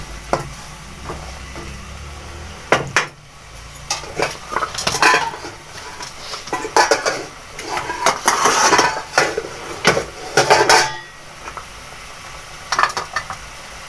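A spoon stirs beef and potato curry (aloo gosht shorba) in a metal pot, sending out loud, irregular clanks and scrapes against the pot sides in quick bursts, with no voices heard.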